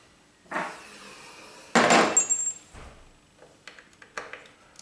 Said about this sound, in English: I'm also going to take the truss rod cover off, because I may need to adjust the truss rod